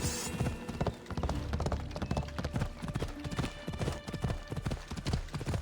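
Horse hooves clip-clop steadily and fast on the ground during a ride in Assassin's Creed Odyssey, loud and close, with a rough rhythmic pounding and some background rumble.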